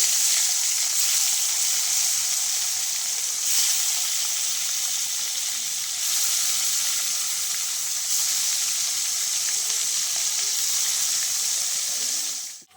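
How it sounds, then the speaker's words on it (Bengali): Snakehead fish sizzles steadily in hot oil for a potato-and-fish curry, a loud, continuous frying hiss close to the pan that persists throughout with no talking. "সবার প্রথমে মাছগুলো আমি ভেজে নেবো"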